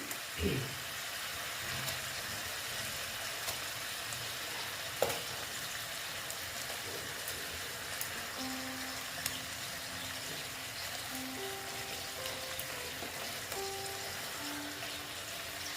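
Breakfast pieces sizzle steadily in hot oil, a soft continuous crackle and hiss with a few brief clinks as pieces go into the pan.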